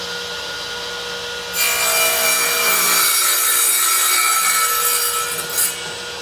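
A hand saw cuts through a wooden shelf board meant to fit between wall studs, giving a loud, steady rasping stroke that starts after a quiet moment and runs continuously for several seconds.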